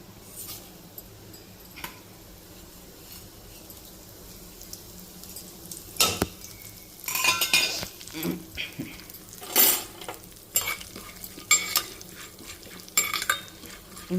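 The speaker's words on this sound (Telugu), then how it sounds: "ఈ పప్పు వేగుతుంది" Lentils frying in a pan while a coconut-mango chutney is made, a quiet sizzle with clinks and scrapes of a utensil against the pan that grow busier and louder partway through.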